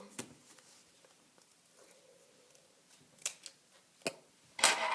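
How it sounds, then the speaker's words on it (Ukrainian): Scissors cut out a paper bookmark in a quiet room, sparse crisp snips and paper rustles spaced unevenly, with a few louder cuts and handling sounds toward the end. "І тепер ми це все вирізаємо."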